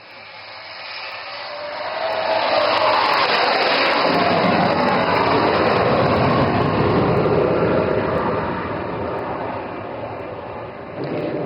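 A military fighter jet with a massive lifting body and thrust vectoring flies an overshoot at an outdoor air show, a loud sustained roar that swells and holds, with no speech.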